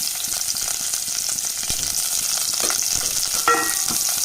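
Onions frying in hot coconut oil give a steady, bright sizzle close up, with a few soft stirring scrapes and one sharper clink near the end; no voices.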